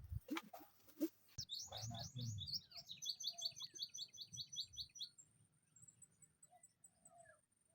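High, thin chirping of tabon bird chicks dug up during a hunt, a quick series of close peeping calls that fades to scattered cheeps, with a few low voices and handling noises at the start.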